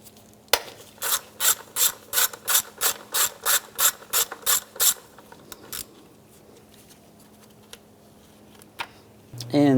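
A ratchet removes bolts from a 2007-2013 Mini Cooper valve cover. Roughly a dozen sharp, evenly spaced clicking strokes come close and loud in a regular rhythm, then stop, with a faint steady hum underneath.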